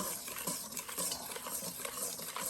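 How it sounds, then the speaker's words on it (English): Crepe batter with a pinch of salt whisked briskly in a bowl, a close, quiet scraping and swishing that runs continuously without pause. "We're gonna give that a quick stir"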